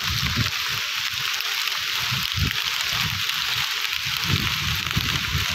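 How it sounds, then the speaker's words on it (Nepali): Light rain falling during a motorcycle ride on a rain-damaged road near Suryamai Rato Mati, Nepal, a steady close hiss over a low rumble that continues without a break. "सिमसिम पानी परिरहेको छ"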